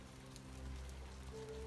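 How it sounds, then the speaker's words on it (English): Steady soft rain falls as quiet background ambience during a tabletop role-playing session, a faint even hiss with a low hum underneath and no voices. "you guys are traveling through this dismal rain"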